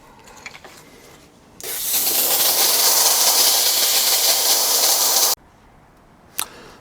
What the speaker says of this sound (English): I've done a couple of rounds of steam and heat, a couple of cycles of that